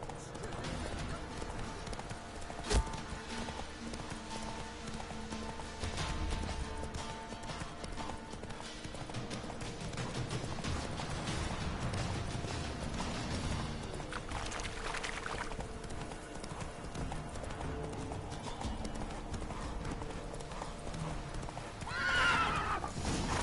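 Horse from The Witcher 3 clip-clopping at a steady gallop, with a whinny breaking through near the end, game music and ambience running underneath.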